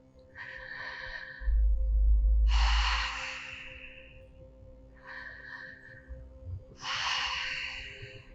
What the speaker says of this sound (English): Inhale, big inhale through your mouth